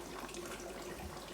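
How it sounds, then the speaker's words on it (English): A siphon from an aquarium return pump sends water running steadily into the sump below a reef tank, a continuous close rushing, gurgling flow with no pauses. "noise you're hearing is the siphon from the return pump."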